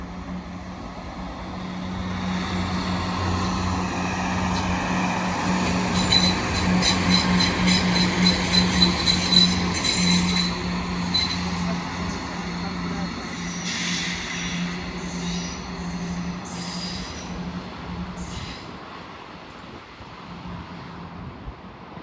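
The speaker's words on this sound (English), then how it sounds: "Soon to emerge is the 1351 cross country service from Birmingham Street to Stansted Airport" A CrossCountry diesel unit, class 170 no. 170107, rolls through Nuneaton station on the West Coast Main Line, a long rumbling pass with rhythmic clattering over rail joints and wheel squeal, fading away near the end.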